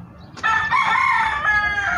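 A gamecock crows once, loud and close, a drawn-out cock-a-doodle-doo over faint background noise.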